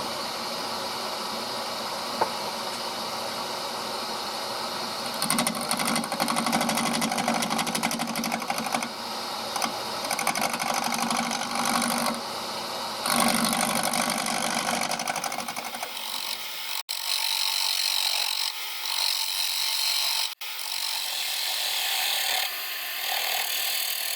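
Wood spinning on a lathe while a chisel rounds it down, giving a continuous loud scraping and whirring with bursts of harsher cutting that stop and start, then an abrupt shift to thinner, lighter scraping.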